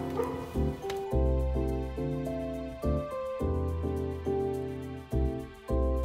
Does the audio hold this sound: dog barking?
yes